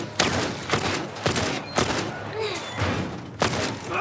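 Gunshots in The Last of Us remake during a headshot on a clicker, five or six loud, sharp reports spaced roughly every half second to a second, each with a short echoing tail.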